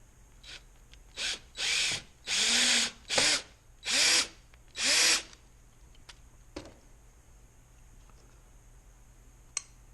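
A power drill bores into a Corona 3354 weeder under repair, firing in six short, close whirring bursts of rising length, followed by quiet handling clicks and a sharp tap.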